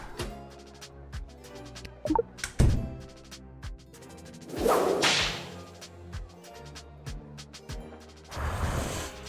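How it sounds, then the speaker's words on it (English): Whip cracks in a comedy border-checkpoint video game, several sharp snaps spread irregularly over the clip against a busy background of game music, with no talking. "Peaches really responded well to the crack of the whip."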